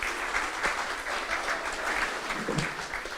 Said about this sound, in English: Give him a wee round of applause there.